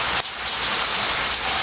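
Steady rain falling outdoors, a dense continuous hiss of drops on surfaces, close and even throughout the short stretch.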